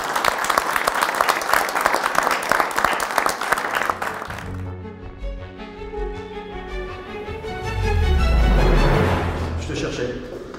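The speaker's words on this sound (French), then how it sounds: "On peut vous applaudir, je crois." At a French corporate event on AI and jobs, applause for a presentation before a jury rings out loud and dense for about four seconds, then breaks off as music and background sound take over.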